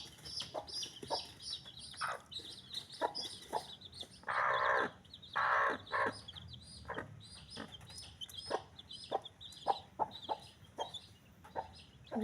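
A hen clucks in short, repeated bursts at moderate distance, with a few louder squawking calls in the middle and faint chirps around it, in a quiet farmyard setting without talk.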